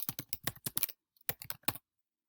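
Typing on a computer keyboard while working in Excel: two quick bursts of close, crisp key clicks separated by a short pause, with no voices.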